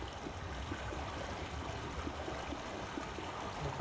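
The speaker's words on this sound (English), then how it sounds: "I can hear water flowing in this." Steady broadband rush of flowing water inside a windmill in a video game, continuous and fairly even with a faint low mechanical rumble beneath, no talking.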